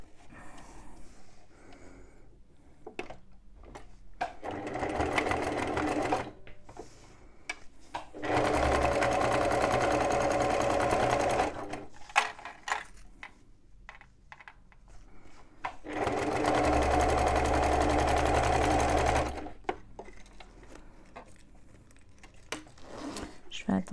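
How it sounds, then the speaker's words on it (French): Sewing machine stitching a zip seam on a bum bag, in two long steady bursts of loud whirring with quieter handling noises and someone talking between them. "Et je vais simplement suivre ma précédente ligne de couture."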